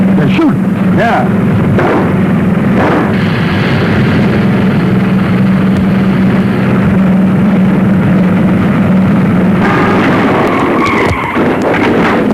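Gunfire during a car chase in a 1940 thriller film, heard as sharp loud shots bursting over a steady roaring car engine and skidding tires, with a few voices speaking briefly amid the din.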